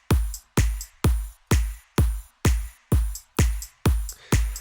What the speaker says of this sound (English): whack an offbeat hi-hat, which is from Laser Pop for Spire one shots